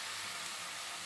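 Onions with turmeric sauté in a pan for a Tamil onion-tomato thokku, a dense, even hiss of sizzling that holds steady and close for a brief moment with no voices.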